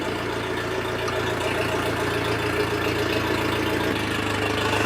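Outboard motor idling in neutral while being flushed with water: a steady, low, even engine hum that holds continuously and alone, with a slight shift in tone near the end.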